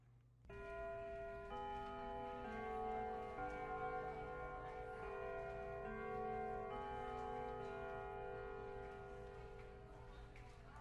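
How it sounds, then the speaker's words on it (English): A school bell chimes in the Lucid9 video game, a sustained ringing tone that fills the clip, steady and moderately loud against a faint background. "And there goes the bell, finally."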